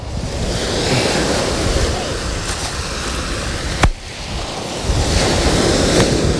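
Sea waves at Amantea beach in Calabria wash in steadily with wind buffeting the microphone, a continuous broad surf roar with one sharp knock midway and a swell of louder surf near the end.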